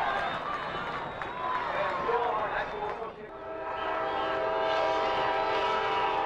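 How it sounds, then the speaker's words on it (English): A train whistle blows near a high school baseball championship game, a sustained, fairly loud horn tone that swells in the second half over crowd and field noise. "You hear the whistle blowing."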